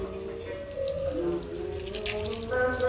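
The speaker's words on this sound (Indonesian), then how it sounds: "Kita siram dulu seperti ini, termasuk juga talamnya itu di belakang." Water pours steadily over a bird cage and its tray for puter pelung and tekukur doves, a close, continuous splashing and trickling with slight shifts in flow and no talk.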